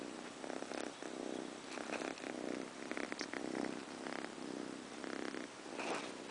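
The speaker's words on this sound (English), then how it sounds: "You hear it purring?" Cat purring while snuggling, a soft, close, continuous rhythmic purr that pulses steadily with each breath.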